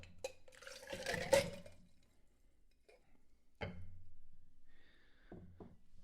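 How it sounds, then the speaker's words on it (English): Ice and water are tipped out of a pre-chilled rocks glass: a brief splashing pour, then a couple of sharp clinks and a short trailing dribble, close and fairly quiet. "Now I'm going to dump the ice and water out of my pre-chilled rocks glass."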